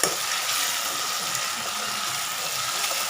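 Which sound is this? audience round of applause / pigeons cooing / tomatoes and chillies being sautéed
tomatoes and chillies being sautéed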